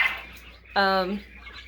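A single short, harmonic call from a quail in a coop rings out nearby, preceded by a brief faint voice and soft background noise.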